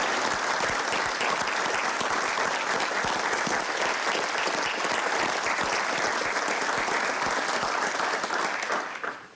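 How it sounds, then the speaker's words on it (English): Sustained applause from an audience at a hockey coach's retirement press conference, steady dense clapping throughout before tapering off at the very end, with no talk over it. "Please give her a round of applause."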